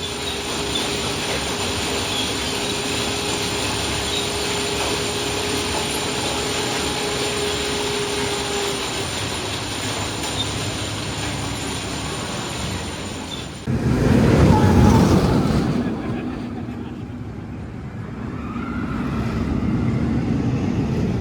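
The Big One roller coaster at Blackpool Pleasure Beach gives a long, steady rumble and rattle of the train on its track. About two thirds of the way through comes a sudden louder rushing roar, which then eases back into a lower rumble.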